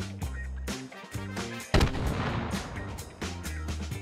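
A mortar in the VR game H3VR fires at a brick, giving a sudden heavy boom with a rumbling tail. Rhythmic music plays before and after the blast.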